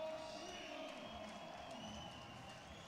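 A large arena crowd applauds and cheers the under-60-kilo judo gold medalist at the 2015 World Judo Championships in Astana, a distant, steady wash of clapping and voices with a faint commentator under it.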